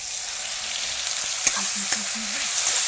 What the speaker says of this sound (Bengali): কাজুটা আমি এর মধ্যে দিয়ে দিলাম এর একসাথে ভাজা ভাজা হবে আলাদা করে ভাজবো না